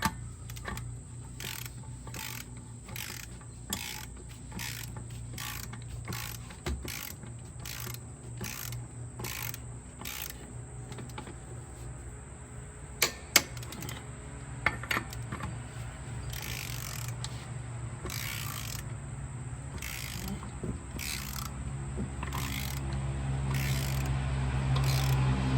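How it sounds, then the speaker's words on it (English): A torque wrench with an extension ratchets as it tightens the wheel spacer nuts on a TYM T474 tractor in a crisscross pattern, giving repeated quick clicking bursts over a steady low hum, close by. "we got the torque wrench set 70 foot-pounds. I'm going to crisscross just like we did on the spacer"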